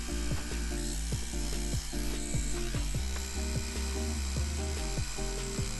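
A tattoo machine running at lowered voltage while shading in black ink, giving a steady mechanical buzz with irregular clicking pulses, close and continuous.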